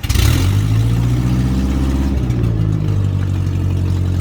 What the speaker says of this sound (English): Very loud because of the lack of exhaust.